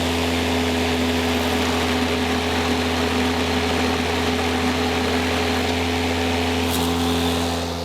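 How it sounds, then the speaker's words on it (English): A DeWalt electric lawnmower's self-drive motor runs with a steady, close electric hum and whine, holding an even pitch with a small shift near the end and no talking. "when I pull the self-drive unit, you'll hear the motor wind up faster"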